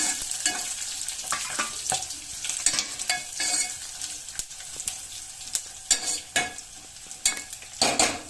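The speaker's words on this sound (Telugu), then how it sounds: "ఆయిల్లో ఎండుమిర్చి అనేది బ్రౌన్ కలర్కి" Dried red chillies and coriander seeds fry in hot oil for a Telugu chickpea-leaf chutney, a steady close sizzle broken by repeated sharp scrapes and clinks of a spoon stirring against the pan.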